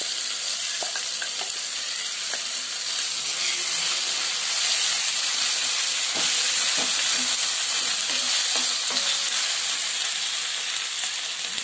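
Ginger, garlic and pepper paste fries in a pan with a steady, close hiss and sizzle, punctuated by faint stirring clicks and no voices.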